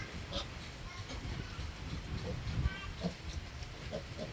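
Low, rough grunts from a sow and piglets come in short bursts close by, over a steady background rumble.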